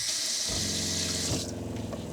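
A SureFlow water pump in a camper van runs as water streams from a tap, a steady close rushing flow with a hum underneath and no speech.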